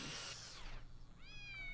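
Cartoonish cat meows in the video game Postal 2, a high sweeping mew rising over low background hum, close and clear.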